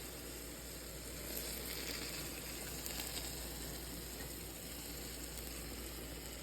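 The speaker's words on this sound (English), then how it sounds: "Hear it sizzling?" A steady, faint sizzling hiss of baklava continues evenly throughout, like something hot crackling quietly in a pan, with no voices.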